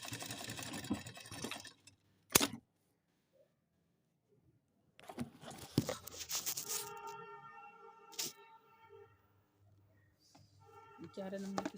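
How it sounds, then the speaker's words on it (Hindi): Domestic sewing machine fitted with a fine size 11 needle stitching a repair in nylon trousers, a steady mechanical whir running in bursts with pauses between, close up, with someone talking around the stitching. "अब मैं कर रही हूँ सिलाई।"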